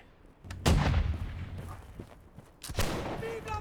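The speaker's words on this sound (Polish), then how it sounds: "Arta strzela, Arta nas strzela." Artillery fire in the line-battle game Holdfast: two heavy, booming cannon blasts, each followed by a long rumbling tail, with voices faint in the background.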